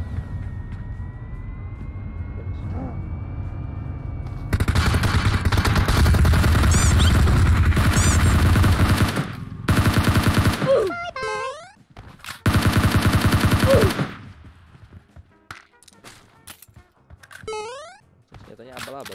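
Gunfire in the mobile battle royale game PUBG Mobile comes in loud, dense bursts of rapid shots separated by short pauses, with a vehicle engine droning underneath.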